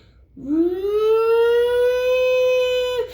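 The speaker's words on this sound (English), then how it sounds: "them damn fire trucks, man. The sirens, it'll go to a frequency." A single long siren wail rises quickly and then holds a steady, loud tone for several seconds before cutting off, like a fire truck siren heard alone.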